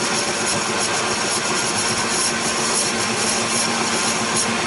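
A metal lathe runs while cutting metal, producing a loud, steady broadband machine roar with a constant low hum and no pauses.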